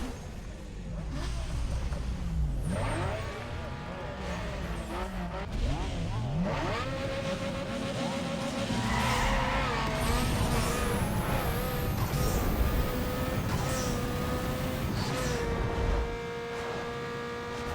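A Mazda RX7 with a 1.3L two-rotor engine and upgraded turbo revs hard in a Need for Speed Underground 2 drag run, its engine note climbing and shifting through gears, loud and continuous with game music and effects around it.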